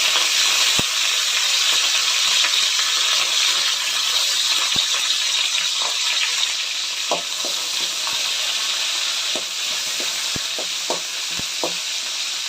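Curry leaves sizzle in hot oil in a home kitchen while leftover rice is being made into a dish, with a steady loud hiss and scattered sharp pops and crackles that carry on throughout.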